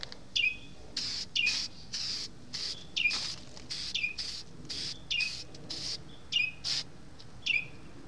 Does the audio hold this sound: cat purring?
no